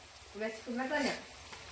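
Banana chips fry in hot oil with a steady, close sizzle throughout, while a voice hums or speaks briefly over the top.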